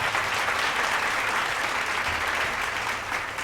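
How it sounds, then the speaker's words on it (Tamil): An audience claps for a speaker at a Tamil debate, a loud, dense and continuous round of applause that holds steady from start to finish without any voices. "பிரவீனாவுக்கு ஒரு நல்ல கைத்தட்டலை இப்போ கொடுக்கலாம்"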